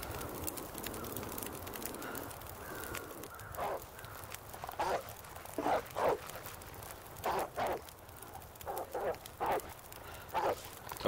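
A wolf-like dog in the survival game The Long Dark barks in short repeated bursts, loud and close, spaced irregularly across the clip, with someone speaking briefly over it.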